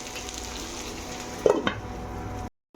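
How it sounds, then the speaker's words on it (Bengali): Chicken pieces frying in spiced masala in a pan, a steady low sizzle with a couple of sharp stirring scrapes midway, then sudden silence near the end. "মশলার সঙ্গে মাংসটা ভেজে নেবো।"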